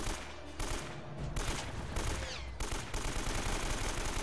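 Rapid gunfire bursts from the Uncharted video game, dense, loud automatic fire with brief gaps, continuous over a steady game background.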